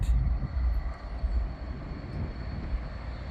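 A train rolling past in St Paul, a steady low rumble of wheels and engine at moderate distance, continuous and fairly quiet with no voices.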